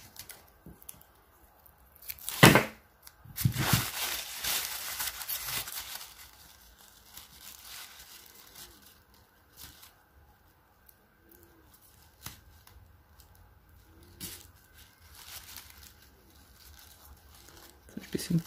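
Thin paper crinkles, tears and rustles while being cut and glued in overlapping layers around a candle jar, with a loud burst of crumpling near the start and softer handling sounds afterward, close to the mic.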